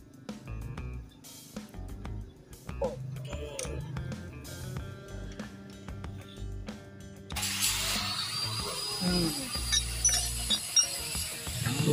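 A ratchet clicks steadily while tightening bolts during assembly of a Suzuki Supra X 125 motorcycle, the close mechanical ratcheting running through the whole stretch with some background noise.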